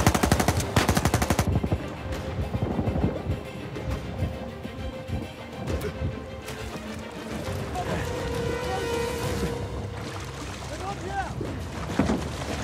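Rapid automatic gunfire and scattered shots in the video game Uncharted 4, loud bursts up front easing into continuous battle noise, with people talking over it.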